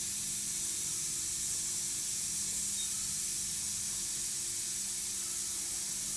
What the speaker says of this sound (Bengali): দেখো, মাছগুলো কড়া করে ভাজছি।